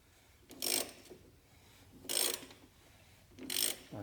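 Ratchet loosening a 3.0 Duramax fuel filter housing with a stuck O-ring, three short bursts of clicking pawl sound separated by pauses, close and fairly quiet.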